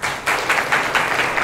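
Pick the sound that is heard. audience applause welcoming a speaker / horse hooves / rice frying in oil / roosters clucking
audience applause welcoming a speaker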